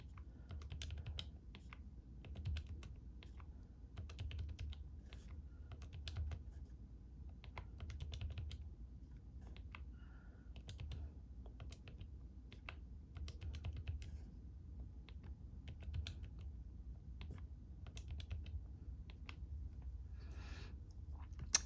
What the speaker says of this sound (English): Now I'm going to type in these 10 values.